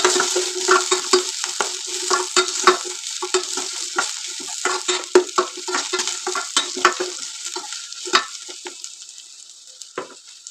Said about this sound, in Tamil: நல்லா வதக்கணும். வெங்காயம் நல்லா வதங்கட்டும்.